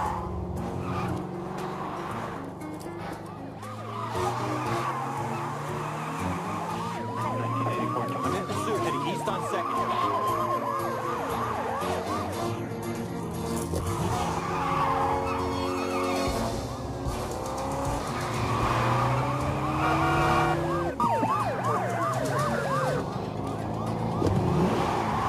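Film stunt car driving sequence with a loud engine roaring and revving continuously, tyres and motor whining in rising and falling sweeps, with siren-like tones layered over a busy action soundtrack.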